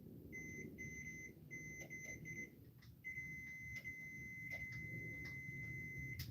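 Digital multimeter in continuity mode beeping while probing circuit board components for shorts: a series of clear, steady electronic tones, some short and some sustained for over a second, near and bright over low background noise.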